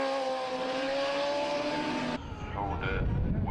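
Superbikes at the Cookstown 100 road race roar past at high speed, a loud sustained engine whine with a tonal drone that drops abruptly into rougher, nearer engine noise and another bike approaching.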